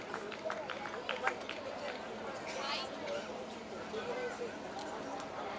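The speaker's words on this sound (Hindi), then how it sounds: "एक बार जोरदार तालियां हो जाएं।" An audience at a kavi sammelan poetry event claps steadily to welcome a poet to the stage, a dense continuous patter of many hands filling the whole stretch at moderate distance.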